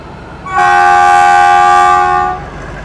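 A German-built AHK diesel locomotive horn sounds one steady, loud blast lasting about two seconds over a low background rumble.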